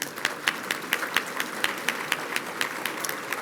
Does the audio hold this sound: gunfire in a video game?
no